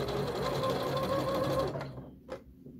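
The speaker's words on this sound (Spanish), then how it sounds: "Colocamos dentro el sesgo, estiramos 1 y cosemos." A domestic sewing machine stitches lace and bias binding onto a blouse, running in a fast, steady burst for under two seconds before stopping, then one faint click.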